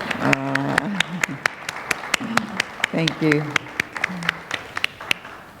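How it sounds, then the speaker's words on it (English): An audience claps sharply and steadily for a community speaker at a Westminster Canterbury gathering, the applause running throughout while someone speaks over it. "let's all applaud"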